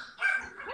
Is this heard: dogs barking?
yes